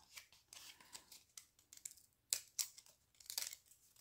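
Quiet, crisp snips of pinking shears cutting, a few sharp cuts spaced out with soft rustling between them, close by.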